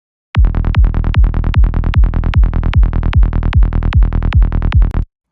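Psytrance forest bass synth built in Serum with a raspy, gritty texture, playing a fast, steady run of punchy repeated notes, loud and solo with no voice.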